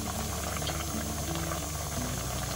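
Mattu gulla brinjal pieces simmer in a little water in a covered pot for Udupi-style sambar, making a soft, continuous bubbling and faint hiss at low volume.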